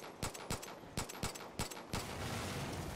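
Gunshots in Far Cry 5 ring out as a handful of sharp single reports at uneven intervals, fairly loud, before giving way to a steady low rumble of background noise.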